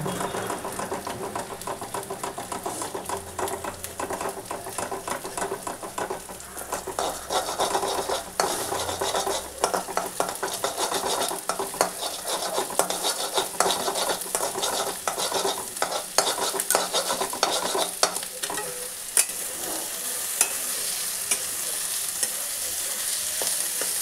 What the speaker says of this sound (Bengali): ডিমটা ভালো করে ভেজে নিই, নিয়ে তার মশলাগুলো সব দিয়ে দেবো।